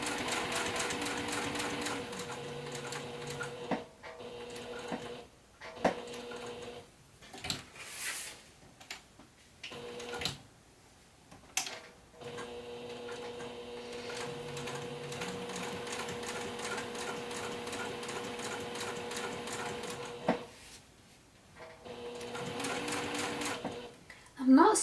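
Sewing machine stitching a fabric notepad holder alongside Decovil heavy interfacing, a steady mechanical whirr in several long runs broken by short pauses, with a person talking over it.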